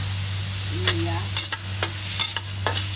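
Chopped ginger and garlic sautéing in oil in a pan for chicken tinola, a steady close sizzle with several sharp scrapes of a utensil stirring against the pan, no talking.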